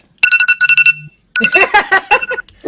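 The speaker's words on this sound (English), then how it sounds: "That's the generic alarm." The generic iPhone alarm, a bright, repeating electronic tone, plays in quick chiming bursts, pauses briefly, then resumes loud and close.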